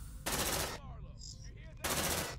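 Suppressive gunfire in the video game Aliens Dark Descent: two loud rapid automatic bursts, each about half a second long, separated by a short gap filled with faint game effects and voice fragments.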